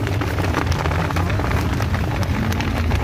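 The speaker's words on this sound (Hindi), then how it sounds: "इतनी बारिश हो रही है" Heavy, steady rain pours down in a dense continuous hiss, loud and close, with no voices, in Satpura Tiger Reserve.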